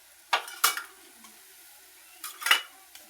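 A spoon stirs vegetable curry in a metal pan, giving a few sharp scraping clinks in two brief clusters over a faint sizzle, close by and without talk.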